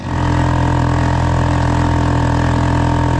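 A cheap quad bike idles on sand dunes with a loud, steady, low engine drone that holds at the same note without revving.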